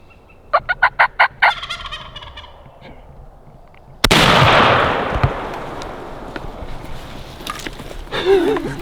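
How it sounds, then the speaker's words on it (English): A Merriam's wild turkey gobbler calls in a rapid rolling burst, fairly near, during a northwest turkey hunt, followed by a sudden loud gunshot blast and its lingering outdoor rumble. "There was one gobbler and a bunch of hens."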